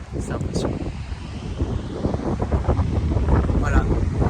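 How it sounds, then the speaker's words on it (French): Wind at Diamond Beach in Bali rumbles and buffets close against the microphone in uneven gusts. It grows stronger toward the end, and a faint voice may be mixed in. "Il y a du vent."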